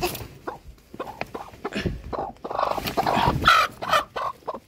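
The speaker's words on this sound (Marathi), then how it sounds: "दिसते काय कोणाला कोंबडी?" Hens on a farm with goats nearby give loud, close clucks and squawks in irregular bursts, the calls running almost continuously and overlapping.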